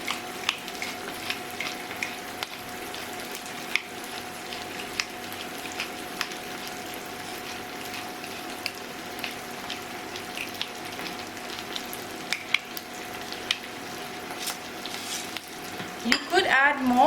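Onions frying in a pan for pepper sauce, a steady soft sizzle with faint scattered clicks, and a short burst of running tap water near the end, close and quiet with no talking.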